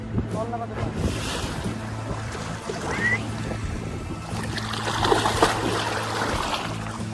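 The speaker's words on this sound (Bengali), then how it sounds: "নৌকা একা একা যাচ্ছে।" A boat gliding on river water at sunrise, with broad watery wash and wind noise against the microphone, a low steady hum underneath and a few faint voices in the background.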